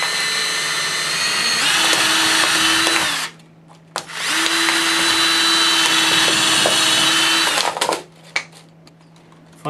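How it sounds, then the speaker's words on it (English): A power drill whines loudly in two long bursts, each a few seconds, drilling through stacked plastic soda bottles, with a short quiet gap between them and a brief stop near the end. "take the drill and drill down through all the layers on both sides of the handle"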